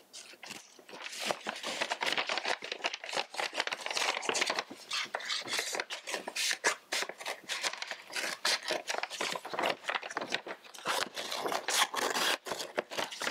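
Scissors cut through a Trader Joe's paper bag, a rapid run of close, crisp snips and crinkling paper rustles continuing steadily throughout.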